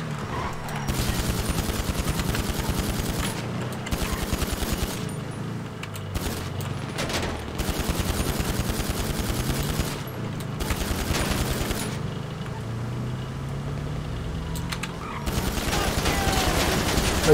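Rapid AP pistol gunfire in GTA Online, part of a Drug Wars mission, crackling in dense bursts over a continuous game soundscape of engine and effects, with short pauses between volleys.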